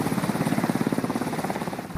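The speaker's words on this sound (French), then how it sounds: "on roule avec les fenêtres baissées pour écouter l'exhaust, la note d'exhaust d'origine ou celle-ci qui est aftermarket" A Toyota Supra mk5 tuned to 600 wheel horsepower drones through its aftermarket exhaust while cruising with the windows down, a deep throbbing pulse like a helicopter's rotor, loud and continuous inside the cabin.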